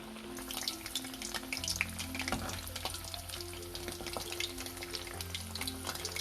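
Corn vadas deep-frying in hot oil, a continuous crackling bubble with dense rapid pops and a low hum underneath, close and steady throughout with no speech.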